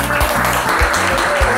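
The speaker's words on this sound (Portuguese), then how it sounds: "Uma salva de palmas para vocês." Applause at a live music performance, dense clapping from a crowd that stays loud and continuous, mixed with steady musical tones and a regular low thump.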